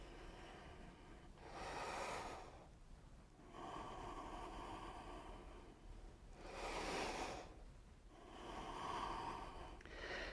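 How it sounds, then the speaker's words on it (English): Slow, steady nasal breathing during stretch band strength training, with about four long, soft breath cycles swelling and fading, close and quiet, with no talking. "Nasal breathing."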